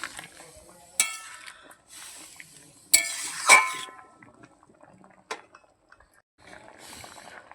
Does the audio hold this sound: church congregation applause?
no